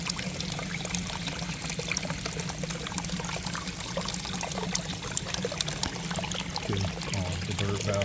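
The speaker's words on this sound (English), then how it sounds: "The bird bath comes on with motion too, with the main waterfall at the tropical rainforest garden." Water pours and trickles steadily from a motion-activated garden bird bath fountain in a tropical rainforest garden, a continuous splashing stream close by.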